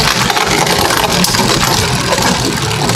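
Two Beyblades, Leopard and Jormuntor, spin and scrape against the plastic stadium rails, making a loud, continuous rough whirring grind filled with dense rattly scraping.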